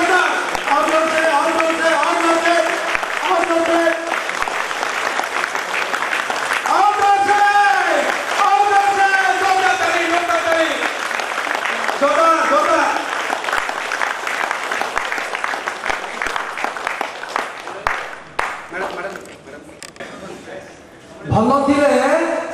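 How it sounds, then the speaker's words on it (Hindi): A seminar audience on healthy living claps warmly to welcome a guest onto the dais, with sustained applause mixed with voices and tonal sound, before the clapping thins and ends. "जोरदार ताली के साथ स्वागत करें।"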